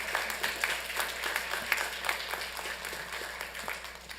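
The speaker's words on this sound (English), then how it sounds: "if we can please give Ms. Morales a big round of applause for making Orange County history" Audience applause at a Santa Ana city council meeting, a steady moderate round of clapping from a room of people, continuous for several seconds with scattered sharper claps standing out.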